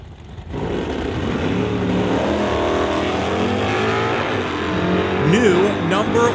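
A 1968 drag racing car at an NHRA Summit ET Series event roars loudly down the strip with a sustained engine drone that rises toward the end, while an announcer talks over it.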